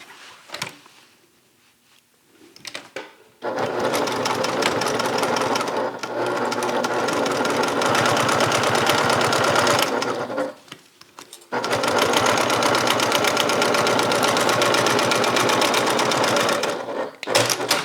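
A sewing machine stitches a bag seam in two long, loud, steady runs of rapid needle chatter, close by, separated by a short stop and preceded by quiet handling.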